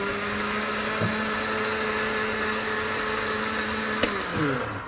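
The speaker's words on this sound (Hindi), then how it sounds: "ब्लेंडर में ब्लेंड" An electric blender whirs steadily while blending a drink, a loud continuous motor whine with a slight pitch shift near the end and no voices.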